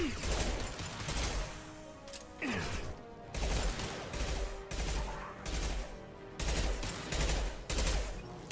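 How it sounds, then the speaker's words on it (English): Modified assault rifle fire in the video game Mass Effect 2, heard as repeated bursts of gunfire in a choppy rhythm over game effects and background sound, fairly loud. "Modified assault rifle."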